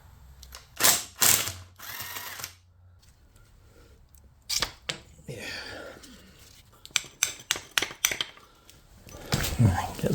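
Close ratchet clicking as nuts are backed off a Kawasaki ZX9R motorcycle engine case, in short separate bursts with quiet gaps and a few handling knocks between them.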